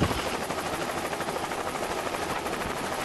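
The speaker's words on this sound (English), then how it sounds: "We utilize helicopters to fly into the gardens." Rapid rhythmic thudding of helicopter rotor blades, continuous and fairly loud throughout, with a dense engine wash and no talking.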